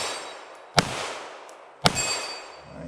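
Two sharp pistol shots from a PSA Dagger with an American flag slide, fired at small steel targets, about a second apart, each with a bright metallic ring that trails off.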